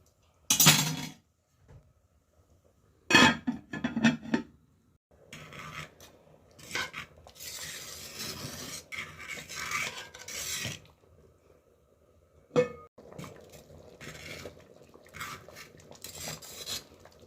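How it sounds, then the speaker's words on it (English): A spoon scraping and clinking against a cooking pot as rice and peas are stirred, with sharp loud scrapes near the start, then steadier rasping and rubbing strokes over a low simmering background. "I have to stir it up. I don't want it burn."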